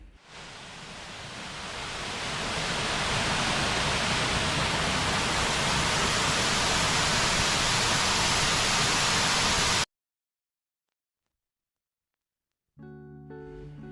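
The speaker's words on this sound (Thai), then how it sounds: "ก็จะเจอน้ำตกอยู่ทางขวามือก่อนจะขึ้นถ้ำซึ่งเป็นน้ำตกเล็กๆแต่สวยงามมากเลยทีเดียวน้ำที่ไหลผ่านชั้นหินเล็กๆ" A small waterfall spills over thin rock layers near a cave in Saraburi, Thailand, making a steady, dense rushing roar that swells over the first seconds, holds loud and close, then cuts off abruptly, with a brief faint sound returning at the end.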